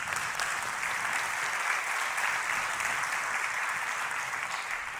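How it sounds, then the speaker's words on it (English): An audience at a YMCA World Council 2022 panel session applauds for Daniel, an even, unbroken wash of clapping from many hands that lasts the whole stretch at constant loudness. "A round of applause again for Daniel."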